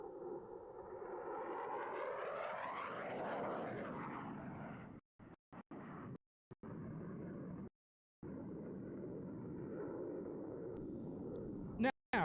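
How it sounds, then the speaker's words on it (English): An F-16 fighter jet roars past in a knife edge pass at an airshow, a loud sustained engine rush that rises and sweeps by, with a commentator talking over it and brief dropouts near the end. "In from your left, the F-16 and the knife edge pass."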